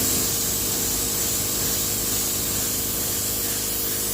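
A paint spray gun nozzle hisses steadily and continuously while spraying custom paint onto a Mazda RX4 body being prepared for drift spec, a close, even airy rush with no talk.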